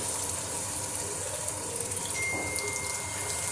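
Tamarind water is poured into a pot for a village fish curry, making a continuous, even gushing splash with no talk over it.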